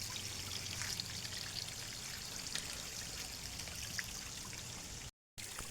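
Rainwater runs through a forest during rain, a steady, faint, hissing flow that continues evenly throughout before cutting out briefly near the end.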